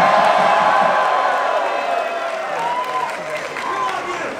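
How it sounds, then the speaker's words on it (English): At a political rally in Los Angeles, a large crowd claps and cheers loudly, the applause and whoops peaking at first and then gradually thinning out, with voices mixed in. "Let's give a round of applause."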